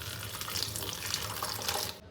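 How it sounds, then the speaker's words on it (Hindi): Tap water runs steadily into a bottle for a couple of seconds, a continuous splashing hiss with no talk over it, stopping right at the end. "तो चलो इस बोतल में पानी भरते हैं और ऊपर से भिगाते हैं"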